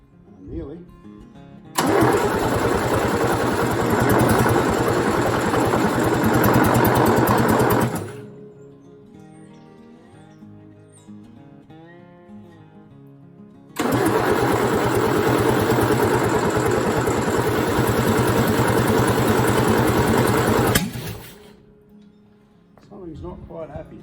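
A Morris LC car engine cranks and catches, running loud and rough for several seconds, then cuts out during a quieter stretch before a second long burst of running, with someone talking briefly in the gaps.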